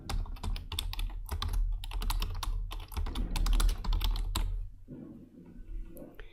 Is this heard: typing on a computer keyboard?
yes